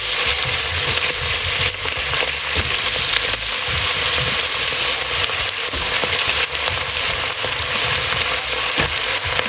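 Cauliflower fries in a hot pan for coconut cauliflower soup, giving a constant, loud, close sizzle with faint stirring clicks throughout and no talk.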